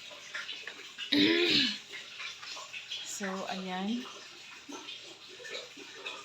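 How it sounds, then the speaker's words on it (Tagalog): Weak running tap water trickles from a faucet in a house under renovation. The soft, steady flow sits beneath a person talking, with a brief louder splash near the start. "Kasi mahina talaga ang daloy ng tubig na yun."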